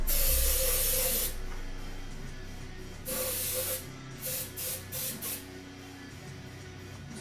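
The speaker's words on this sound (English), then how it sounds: "What I want to do is try to spray some of the water out." Water is sprayed out of a metal cooling pot on an overclocked Intel 9900K PC rig. A long, loud hissing spray is followed by several short, sharp bursts of spraying.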